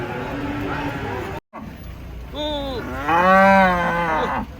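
Giant Limousin cattle being unloaded from a truck let out long, drawn-out moos, loud and close, one rising call followed by a deeper, stronger bellow over a busy background hum.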